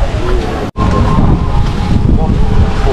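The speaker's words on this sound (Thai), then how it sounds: "อ้ลมเย็น" Cool wind sweeps across the microphone on Koh Kret island in Thailand, a loud, constant roaring rush with one brief dropout near the start.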